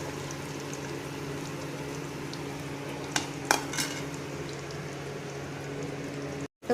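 Fried soya chunks sizzle steadily in a pan while being stirred, with a few brief metallic clinks of a utensil against the pan near the middle; a continuous close frying hiss with no voices.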